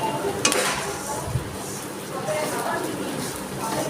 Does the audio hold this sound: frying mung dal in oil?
yes